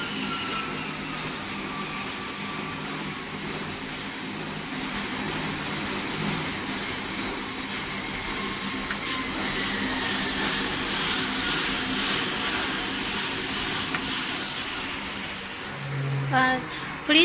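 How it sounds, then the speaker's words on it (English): Liquid mixing machine running with its mixer and homogenizer turning in opposite directions, a steady broadband motor whine and hum lasting throughout, fairly even in level, with a brief clunk near the end. "Please note the direction of the mixer is clockwise and the homogenizer is anti-clockwise."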